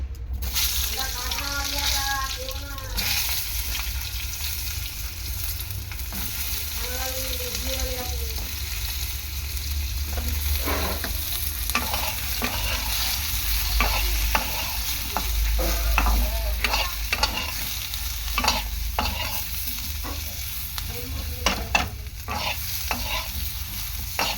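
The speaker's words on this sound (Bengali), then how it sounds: "বেগুনটা আমি প্রথমে একটু ভেজে নেব" Cut eggplant fries in oil in a pan, a steady, fairly loud sizzle running the whole time, broken by frequent scraping and clattering of a spatula and some faint background voices early on.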